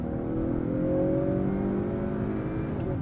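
A 2022 Honda Accord 2.0T Sport accelerates hard from a brake-boosted launch, its turbocharged engine note rising steadily and loudly through the revs, heard close from inside the cabin with no talking.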